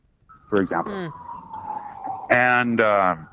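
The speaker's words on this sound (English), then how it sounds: "I'm sorry for the sirens." A police siren wails steadily in the distance, its tone sliding down slowly, while someone talks over it in the foreground.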